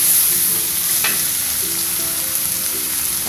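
Spice paste for fish gulai frying in a pan, a loud, steady close sizzle with faint stirring clinks and no talk.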